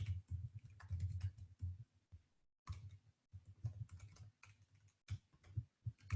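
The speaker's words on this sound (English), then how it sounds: "this is a real email that I'm typing in" Fingers type an email on a computer keyboard in quick irregular runs of soft clicks, broken by short pauses, close and fairly quiet.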